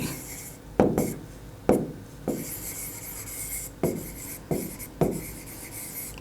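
A maths answer is written by hand in a quick series of about seven sharp scratching strokes. Each stroke starts with a crisp attack and fades out, close and clear, with no talk.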